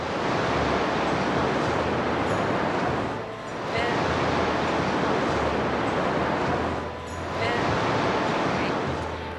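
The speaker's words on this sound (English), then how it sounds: "It's very windy" Strong wind buffets the microphone on Famara beach in Lanzarote, with surf roaring beside it, loud and continuous with two brief lulls.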